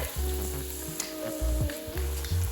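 Spoonfuls of vegan corn fritter batter with onion and celery leaves sizzle loudly in hot oil, with bursts of bubbling crackle as each portion drops in, close and continuous.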